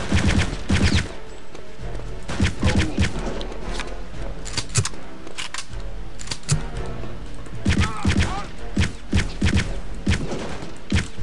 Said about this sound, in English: The Sten is a very nice gun for this game.